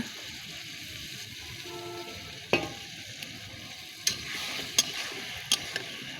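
Tomato, potato and spices fry in a pan for a fish curry, giving a low quiet sizzle with a few sharp scrapes and knocks of a stirring utensil scattered through it.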